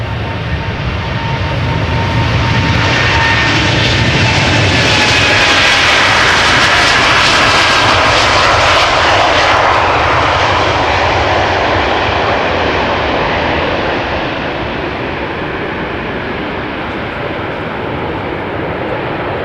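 Jet airliner departing Amsterdam Schiphol Airport, a loud, close, sustained engine roar with broadband rumble and whine that swells to a peak midway and then slowly eases as the aircraft climbs away.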